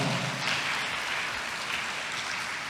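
Audience applause at a job fair concert presentation in a hall, a dense, steady wash of many hands clapping at moderate distance that holds evenly throughout without talk.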